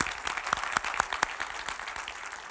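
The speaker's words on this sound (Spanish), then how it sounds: "un aplauso para ellos" A church congregation claps together during a service at Iglesia Vida Eterna, a dense, steady patter of many hands with a few sharper claps standing out, sustained throughout.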